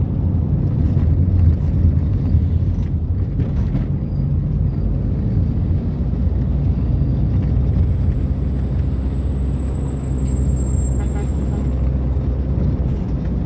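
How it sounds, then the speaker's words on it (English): Road traffic in Jamaica, a continuous loud low rumble of passing vehicles that stays steady throughout, with a faint high whine drifting across the middle and no clear voices over the din. "Traffic same way, people. Traffic same way."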